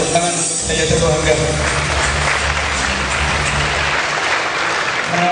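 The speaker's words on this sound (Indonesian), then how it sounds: "Tepuk tangan saya berbahagia." Applause from a school audience at a student orientation event in Indonesia, dense continuous clapping that fills the whole stretch, loud and close with murmuring voices mixed in.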